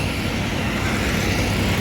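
An NPM intercity bus passes nearby, a steady loud broadband engine and road roar that holds evenly throughout without a clear rise or fall.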